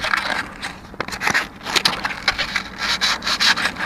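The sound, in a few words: sanding a rusty tractor ignition coil with 220 grit sandpaper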